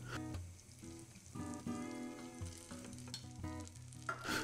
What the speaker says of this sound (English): melt your butter in a saucepan on a medium heat